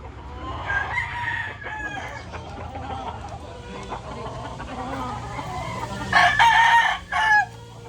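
Chickens and roosters crowing in a backyard, with a loud nearby rooster crow near the end above steady background clucking and low hum.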